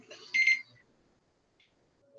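A timer alarm during a writing session sounds one short, bright electronic beeping burst, fairly close, followed by near silence and a faint chirp.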